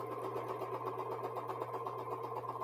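A sewing machine runs steadily while stitching quilt patches, a continuous close mechanical whir with a low hum and no pauses or talk.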